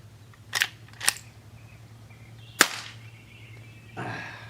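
A Henry H001 lever-action rifle fires at a distant steel target outdoors, giving a few sharp, isolated cracks spread over several seconds, one much louder than the rest, with a softer noisy burst near the end.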